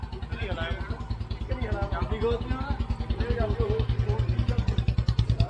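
A motorcycle engine thumps in a fast, even rhythm close by as the bike is worked out of a crowded parking spot on a Hemkund Sahib pilgrimage, with voices faintly underneath.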